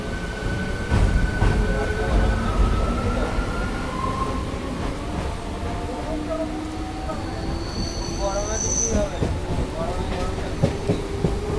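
A Howrah–Bandel local train rumbles along and pulls into Uttarpara station, steady wheel noise and clatter with rising squeals and a brief high whine of braking as it slows.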